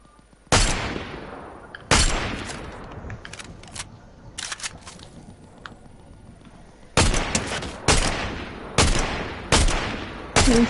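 Gunshots in the video game Fortnite, a series of sharp, loud single cracks at irregular intervals with a quick cluster near the end, over a low game background with no speech.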